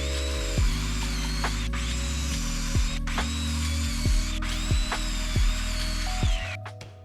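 A power tool cuts wooden cross members for a mini fridge stand, with close, loud bursts of motor whine repeating at a steady rhythm, each cut dropping sharply in pitch before the motor winds down at the end.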